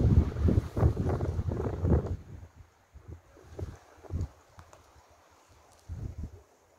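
Wind blows through pine trees in a quiet outdoor spot with no engines, giving a low, gusty rushing that swells at the start and then eases into fainter, intermittent gusts.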